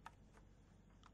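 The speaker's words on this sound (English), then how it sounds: "right mouse click" A few faint, isolated right mouse clicks on a computer mouse in a quiet room, sharp and brief, with one slightly louder click at the very end.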